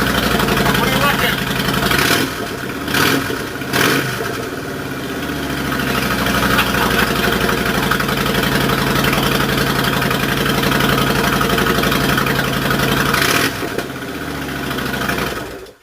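Suzuki Intruder motorcycle idling through aftermarket exhaust pipes, a steady, loud, lumpy low rumble lasting the whole time, with a couple of brief throttle blips near the start and a sharp cut at the end.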